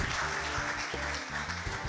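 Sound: applause at an award ceremony

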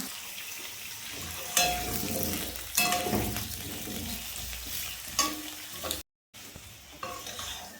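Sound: potatoes frying in oil

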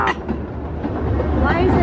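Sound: Blackpool Pleasure Beach amusement park train running on rails

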